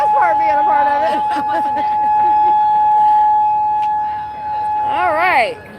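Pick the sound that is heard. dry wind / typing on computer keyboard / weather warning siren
weather warning siren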